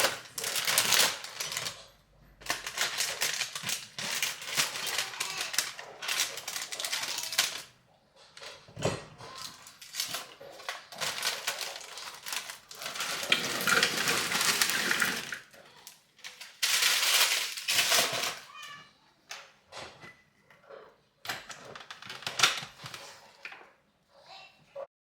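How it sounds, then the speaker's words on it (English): A food processor chops a whole box of Nilla Wafers, giving loud bursts of rattling, crunching whirr that start and stop in pulses, with short quiet gaps between the runs. "I'm gonna get them in my machine here and just get them chopped up"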